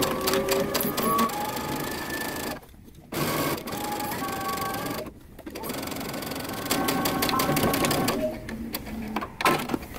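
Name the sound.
sewing machine stitching pant inseams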